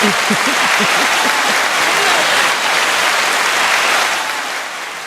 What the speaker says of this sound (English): let's give a round of applause for Black love